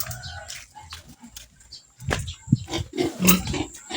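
A pig grunting and squealing outdoors at night, several short loud calls in a cluster near the end, over background insect-like hiss.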